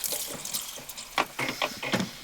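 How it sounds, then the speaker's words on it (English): Water trickles and splashes in short bursts in an RV sink while dishes are washed with vinegar, the flow coming close and intermittent. "washing my dishes with vinegar so that I don't have to use a lot of water to rinse it"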